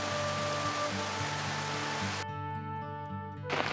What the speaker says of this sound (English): Despite the heavy rain